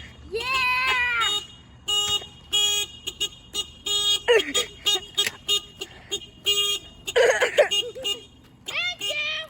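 Cars and a golf cart on a residential street honk their horns in a string of short, loud toots, while excited children shout and cheer between the honks.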